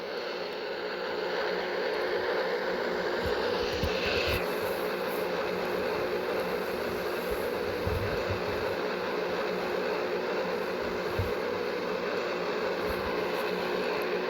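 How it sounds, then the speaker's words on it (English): Airplanes taking off and landing on runway 3-2, seen from a runway visitor area, a continuous distant roar of engines that holds steady throughout with no voices. "we will watch some planes take off and land from 3-2."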